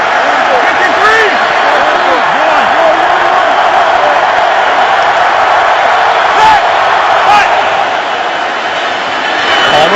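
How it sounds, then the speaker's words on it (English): A stadium crowd roars steadily in appreciation at an NFL football game, Raiders at Ravens in 2012, a dense, loud wash of cheering that barely rises or falls throughout. "The crowd showing their appreciation, deservedly so."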